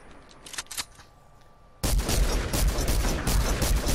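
Gunfire in the Fortnite video game: faint shots at first, then a sudden loud burst of rapid repeated shots that continues steadily to the end, with no talk.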